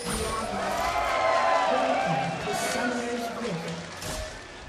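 A crowd of spectators at an esports match cheers and whoops for TSM Evo, a moderately loud wash of voices swelling and easing over several seconds, with a caster's voice mixed in.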